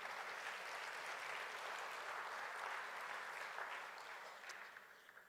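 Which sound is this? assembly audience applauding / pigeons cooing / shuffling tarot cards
assembly audience applauding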